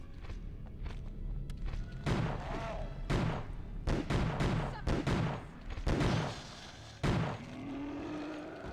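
Pistol shots in the survival horror game ObsCure, fired inside an operating room: several loud, sharp reports spaced irregularly over roughly five seconds, set against a constant low game ambience.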